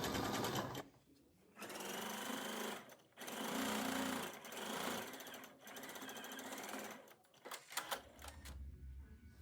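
A sewing machine runs a long basting stitch to gather the hem of a puffed sleeve. It comes in several loud mechanical bursts separated by short pauses, with no voices.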